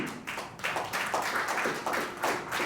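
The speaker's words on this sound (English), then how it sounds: "I think that hand clap is for me." Scattered hand claps from an audience in a debate hall, a sparse run of separate claps coming in uneven bursts, moderately distant and fairly quiet, with no talk over them.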